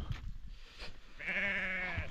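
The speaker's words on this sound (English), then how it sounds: "Those are sheep, guys." A sheep bleats once with a long wavering cry, near and fairly loud, after some rustling and background noise in a livestock setting in Mara, Kenya.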